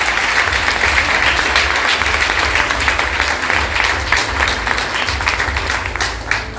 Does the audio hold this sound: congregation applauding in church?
yes